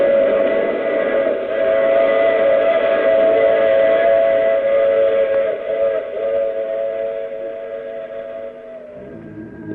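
A train sound effect from an old radio drama: a long, loud steam whistle sounds steadily over a rolling rail rumble, then tapers off near the end.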